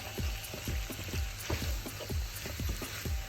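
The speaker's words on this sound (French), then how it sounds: "J'ajoute un petit peu de concentré de tomate, pas trop. Je le cuis un peu en le mélangeant." Tomato paste cooking in a pot with chicken as it is stirred, giving a steady close sizzle with repeated rhythmic scraping strokes of a spoon, no voices.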